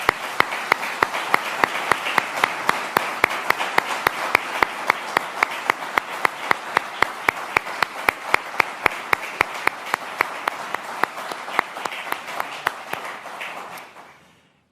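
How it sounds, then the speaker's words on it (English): A launch event audience gives a sustained round of applause for a co-host, many close, sharp claps forming a steady rapid stream for about thirteen seconds before tapering off quickly at the end. "Stand up, Heidi, for a round of applause."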